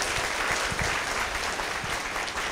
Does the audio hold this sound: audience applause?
yes